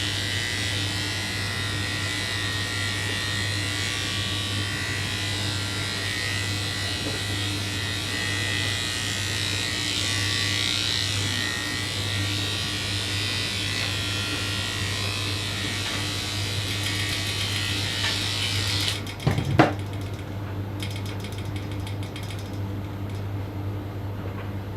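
Electric pet grooming clippers buzz loudly and steadily for about twenty seconds, then cut off with a brief clatter and quieter handling noise.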